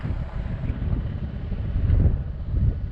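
Steady wind buffeting a microphone outdoors on a windy day during a ride, a low rumbling roar with gusts swelling and easing, with no voices.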